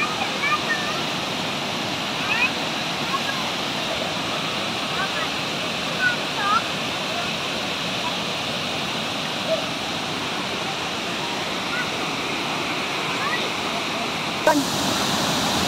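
Tagunon Falls in Agusan del Sur pours with a steady, full roar of falling water, constant and close, with faint voices now and then beneath it.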